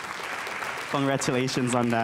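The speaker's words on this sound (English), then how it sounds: "Have a round of applause for Ogarit." Applause at an abolitionist congress greets an honoree: a brief wash of clapping at the start, then a voice speaks over it for the rest.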